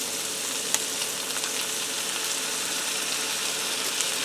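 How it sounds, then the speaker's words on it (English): Diced garlic frying with Italian sausage and onions in a pot, a steady, loud hissing sizzle with a couple of faint clicks from stirring, close and continuous without any talking. "I'm just going to stir this around just for a minute to heat that garlic through and start to cook it just a little bit"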